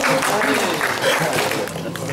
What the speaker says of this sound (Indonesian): Kita berikan tepuk tangan untuk pasangan nomor urut